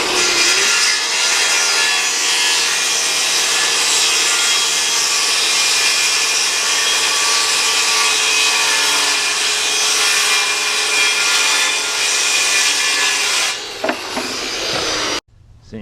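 A saw ripping lengthwise through a wooden board during house framing in Whitefish, a long, steady, close cutting whine that runs unbroken for over ten seconds before cutting out abruptly, followed by a few faint knocks.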